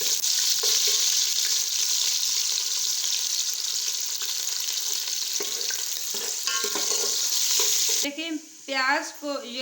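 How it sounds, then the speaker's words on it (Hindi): Onion lightly frying with cumin in a pot for potato and pea pulao, a steady close sizzle with occasional stirring scrapes, followed at the end by a short burst of speech. "देखें प्याज को हमने हल्का फ्राई कर लिए"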